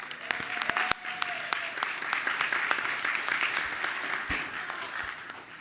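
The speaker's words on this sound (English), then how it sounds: "But another round of applause for those very talented students." Applause for talented students at an evening public meeting, a steady crowd of many hands clapping for several seconds at moderate volume, with a brief tonal whistle or voice early on.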